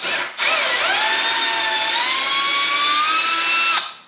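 A power drill backing a screw out of a Mr Cool DIY mini split mounting plate, a loud whining motor that spins up quickly, holds a steady high pitch for about three seconds, then cuts off.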